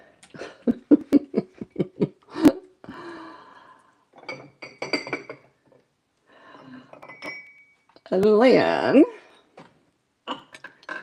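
Indiana Glass pieces clink and tap repeatedly as they are moved and set down, a run of sharp close knocks, with a person speaking briefly and a louder rattling clatter near the end.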